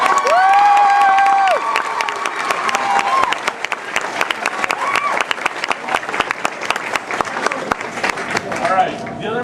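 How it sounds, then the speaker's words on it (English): Cheering and clapping from a crowd gathered for speeches on a competition day, starting with a loud whoop or whistle and continuing as a sustained wash of applause with scattered shouts throughout. "So can we get a round of applause for everyone?"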